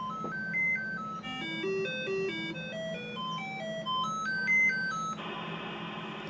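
Commodore 64 SID chip sound test, rapid chiptune beeps stepping up and down in quick melodic runs over a steady hum, then a buzzier sustained tone near the end, alone.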